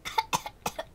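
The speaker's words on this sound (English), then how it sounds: "I'm coughing a lot, if you can see." Short bursts of harsh coughing from a person with asthma who has a cold, three or four rapid close coughs packed into about a second.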